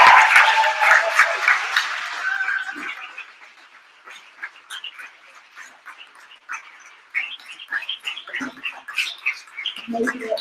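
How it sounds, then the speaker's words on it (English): Audience applause at a female founders hackathon final pitch event, loud dense clapping at the start that fades over a few seconds, followed by scattered chatter and murmuring in the room. "We're going to give a huge round of applause to the Fishburners that have made this possible"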